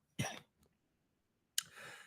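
Two short, harsh coughs close to the mic, separated by a pause of over a second, with the second one trailing into a rough exhale.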